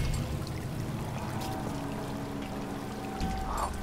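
Water pouring in the video game BioShock Infinite, a continuous, fairly loud rushing stream that holds steady for the whole stretch with no voices.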